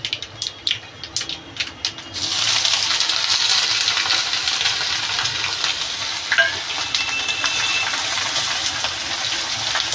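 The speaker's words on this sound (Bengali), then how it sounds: "সেই আদাটা দিয়েই আমি এই গামলার ভিতরে তরকাটা ঢেলে দেবো" Curry tips from a pan into a large basin over fried ginger. A few light clinks come first, then a loud, sustained wash of liquid sound pours out close by.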